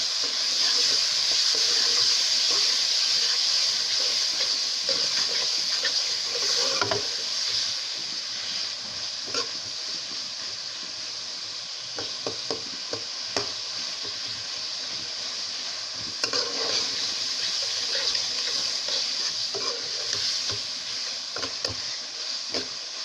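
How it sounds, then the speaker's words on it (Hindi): Four chopped tomatoes hitting cooked masala in a pan, a steady loud sizzle and hiss that runs throughout, with faint stirring clatter now and then. "इसमें 4 अदद कटे हुए टमाटर डालते हैं"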